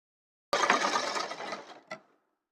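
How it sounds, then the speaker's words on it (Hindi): A sewing machine stitching the side seam of bell-bottom trousers: one short run of rapid mechanical whirring that slows, followed by a brief final clack, close and alone. "यहाँ से हम इसमें सिलाई लगाएंगे"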